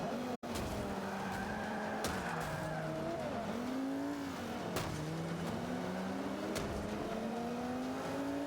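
A car in a racing video game drives hard, engine pitch sweeping up and down through gear changes while tires squeal through corners, steady and continuous with no talk.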